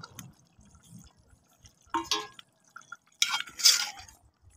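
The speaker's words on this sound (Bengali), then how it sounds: "মাংসগুলো দিচ্ছি।" Chunks of dove meat and potato drop into a pan of cooked-down spices, giving two short wet splattering bursts with quieter clatter between, close and fairly loud, no talking.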